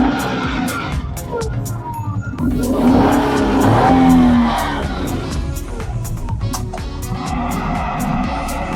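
A 2007 Maruti Alto LXI petrol hatchback engine turns over and settles into a steady idle, heard close up, with voices murmuring in the background.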